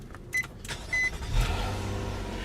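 2017 Nissan Maxima Platinum with a 3.5 L V6 started by push button: two short electronic chimes, then the engine catches with a brief rise in revs and settles into a steady, close idle.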